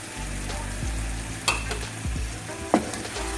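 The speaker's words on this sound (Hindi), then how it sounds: "तो अब इसमें चिकन डाल के भूनना इसे ज़रा।" Chicken pieces sizzling and frying in a pan for karahi, with a steady hiss and occasional clinks and scrapes as a spoon stirs the meat.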